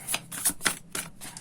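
A deck of tarot cards being shuffled in a run of quick riffling bursts, close and fairly soft, with brief pauses between the bursts.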